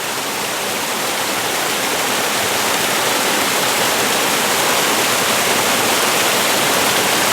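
A waterfall pours over rocks in autumn woodland, a loud, unbroken broadband rush of water that holds steady and close throughout, with no voices.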